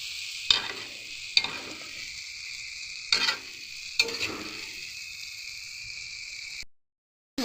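Okra being stirred with spices in a pan over a low gas flame: four sharp scraping strokes of a spoon against the pan over a steady soft sizzle, then a brief silence at the end.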